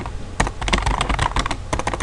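Rapid typing on a computer keyboard, a close, dense run of key clicks with irregular rhythm and brief pauses, no voices.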